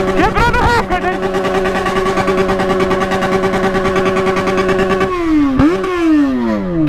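A Yamaha XJ6 motorcycle engine is revved hard and held buzzing against the rev limiter for several seconds, loud and close, then the revs fall away before a brief blip.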